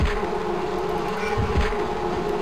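A bee swarm buzzes in the video game Anvil of Dawn as a dense, continuous, droning hum. It stays loud and close for the whole stretch, with a slight wavering in pitch.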